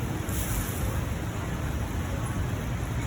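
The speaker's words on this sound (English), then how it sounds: "It'd be better when the wind is not blowing." Wind buffets a microphone outdoors in New Orleans, a steady, loud low rumble of gusting noise with no other clear sounds.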